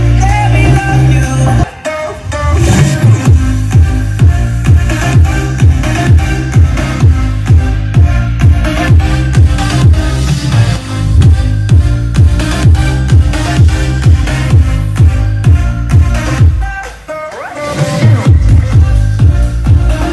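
Loud pop music plays through a CT-600 Tosunra mono car amplifier with a heavy, booming bass beat, continuous and punchy, with brief dips where the low end drops out.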